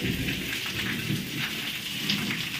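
Steady rain pours down around a house, a dense continuous hiss of drops on surfaces, loud and close, with no voices.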